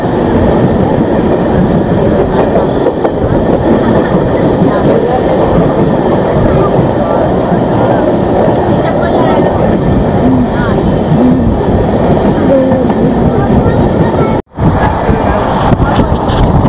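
The Janshatabdi Express passenger train rumbles steadily along the rails past Roha, loud and continuous, with faint rhythmic clatter and a brief dropout near the end.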